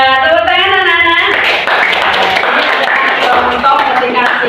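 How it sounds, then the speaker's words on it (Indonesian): Children in a read-aloud class clap their hands together in a brief burst of scattered claps after a voice ends, with talk and chatter continuing over the clapping. "tepuk tangan, anak-anak"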